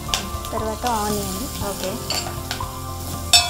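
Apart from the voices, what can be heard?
onions and spices frying in a pan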